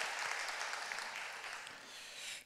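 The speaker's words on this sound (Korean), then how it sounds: "우리 다시 한번 감사의 박수 드릴까요?" A church congregation applauds its volunteer service team after lunch, a steady wash of many hands clapping at moderate distance, even and sustained throughout.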